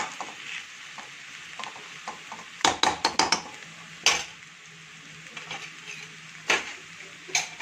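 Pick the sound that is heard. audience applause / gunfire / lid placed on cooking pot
lid placed on cooking pot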